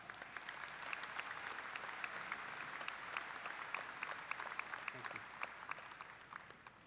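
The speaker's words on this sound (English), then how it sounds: "Let's give them all a round of applause." A commencement audience at a Murray State graduation gives the symphonic wind ensemble a steady round of applause, faint and distant, with dense overlapping claps that continue throughout and fade slightly at the end.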